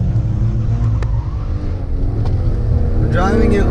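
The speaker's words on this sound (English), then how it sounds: "it does some like really nice pops on the downshift" Maserati Ghibli S GranSport drones steadily under load, with a couple of brief exhaust pops crackling through on the downshift, close and loud inside the moving car.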